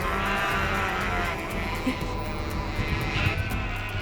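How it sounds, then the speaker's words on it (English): Sheep in Denmark bleating close by, mixed with a steady low rumble like a distant aircraft or engine. "Why are they so noisy?"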